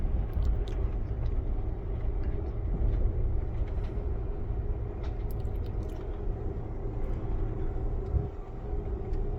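Steady rumble of an Amtrak passenger train in motion, a continuous low roar with faint rattles and clicks on top, heard from inside the car.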